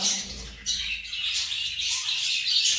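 Pet birds kept in a lamp-warmed bird house chirp and tweet in quick, continuous high calls, fairly close, with no talking.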